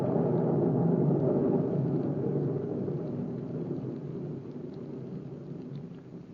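Steady rain with a deep rolling rumble of thunder fills a radio drama scene, loud at first and slowly easing off over several seconds, with no talk over it.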